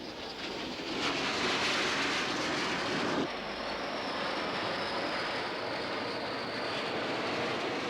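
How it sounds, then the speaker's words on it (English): French-built Mystère fighter-bomber jet passing with a broad, roaring rush that swells then settles into a steady distant drone. "In the first wave, French-built Mystère fighter bombers."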